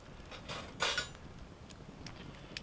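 Metal cooking arms clank onto a TJM campfire fire anchor outdoors. There are a few light, faint metallic clinks, with one sharper knock near the start.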